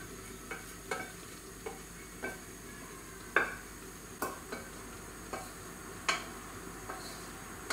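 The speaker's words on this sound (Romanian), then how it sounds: "Adaug ceapa tocată, prăjită, călită." Chopped onion frying in a pan and being stirred: a low, steady sizzle under a series of sharp scraping and tapping strokes from the stirring, spaced irregularly about every half second, quiet and close with no talk.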